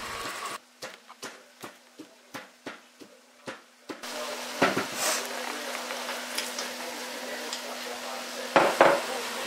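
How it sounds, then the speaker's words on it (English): A spoon stirs nuts into carrot halwa in a pan. It starts with about a dozen quick metallic clinks in an even rhythm, then turns into a busier scraping and clattering that builds to a final louder knock. "Add your favorite choice of nuts,"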